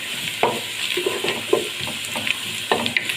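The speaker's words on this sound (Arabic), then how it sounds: "هنزل بقى تشوح في قلب البصله." Finely minced garlic sautéing with browning onions in a pan for Egyptian green fava beans in tomato sauce, a steady close sizzle with intermittent spoon stirs and scrapes, no voices.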